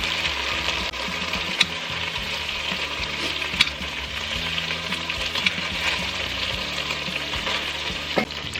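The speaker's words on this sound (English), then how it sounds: "While our meat is searing" A steak sears in a frying pan for a steak and potato pie, giving a steady, close, loud sizzle and crackle with a few sharp spits and pops, with no voices.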